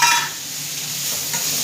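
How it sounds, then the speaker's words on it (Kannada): Chopped tomatoes frying in a pan for ridge gourd chops, a soft continuous sizzle with a light scrape of stirring at the start, close and alone. "ಟೊಮೊಟೊ ಬೇಗ ಫ್ರೈ ಆಗಿಬಿಡುತ್ತೆ"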